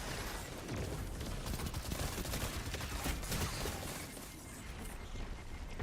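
Dense, continuous automatic rifle fire from a Destiny firefight, rapid crackling bursts blending into a loud, sustained rattle that thins slightly toward the end.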